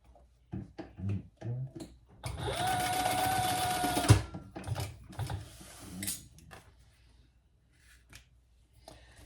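A sewing machine runs in one steady burst of rapid stitching that stitches D-rings into the seam of a wristlet, framed by small handling clicks and rustles of fabric before and after.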